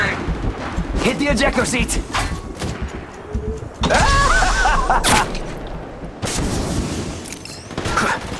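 Apex Legends Mobile gunfire rattles in rapid bursts with booming impacts and crunchy game effects, mixed under loud excited voice chat and in-game callouts.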